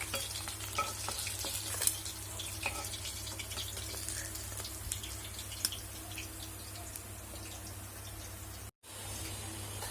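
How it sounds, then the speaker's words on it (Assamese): Mustard seeds and dried red chillies fry in leftover fish oil, giving a quiet, continuous sizzle with faint pops and crackles under a low steady hum, briefly cutting out near the end. "মাছ ভাজাৰ যিখিনি তেল আছিল তাতে মই এতিয়া দিছোঁ সৰিয়হ, শুকান জলকীয়া,"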